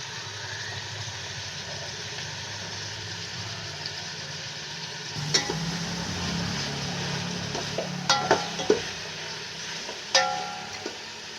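Chicken biryani masala mixture with yogurt, turmeric and chilli powder is stirred in a pot: quiet at first, then a run of clattering spoon scrapes and knocks against the pot, with several sharper hits.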